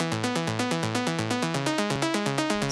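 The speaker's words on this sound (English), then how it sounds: "we have this mono pluck layer from Spire with a little bit of onboard processing" A mono pluck synth layer from Spire, treated with RT20 and EQ with a brightened top end, plays a fast, steady run of short bright plucked notes in a repeating melodic pattern, loud and alone.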